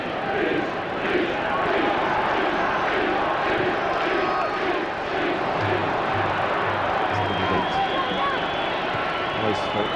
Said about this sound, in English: he's got the ball again, so appropriate reaction from the crowd.